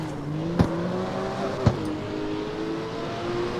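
Revving engine of a custom-built car in the street racing game CarX Street, a steady mid-pitched drone that rises and falls with two brief sharp pops, heard alone at moderate loudness.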